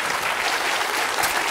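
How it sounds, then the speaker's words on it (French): A television game show studio audience applauds, dense and even clapping filling the room at full volume from start to end, with no pause and no clear voice over it. "Je demande au public de vous applaudir."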